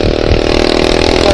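A motorcycle engine runs close and loud, holding a steady, even note for the whole short moment with no other sound over it.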